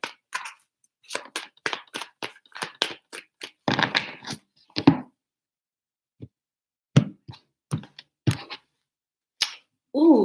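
Tarot cards are shuffled by hand in short bursts of crisp, close snapping and riffling, separated by brief silences, with no talking.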